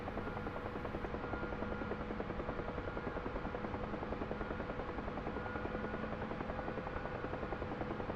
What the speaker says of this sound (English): I see a one lone aircraft up there